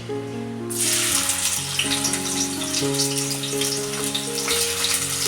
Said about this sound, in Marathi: तेल गरम झालेलं आहे आता याच्यामध्ये मी कांदा टाकते